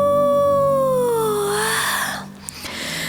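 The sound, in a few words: voice imitating a wolf howling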